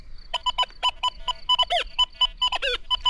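A Rutus Versa metal detector in pitch mode sends out a quick series of electronic beeps whose tone warbles and shifts, clear and close with no one talking.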